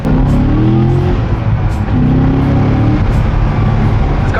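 Exhaust of a new Corvette Z06 running with the exhaust valve fuse pulled: a loud, close engine drone with rising rev sweeps, steady throughout with no talk.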